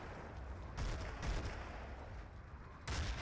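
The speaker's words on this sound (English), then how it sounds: "Artillery from Eclipse almost certainly gonna land" Artillery shells land in a Battlefield 2 conquest match, heard as dull, distant rumbling booms in two heavy bursts with a low crackling wash between them and no talk.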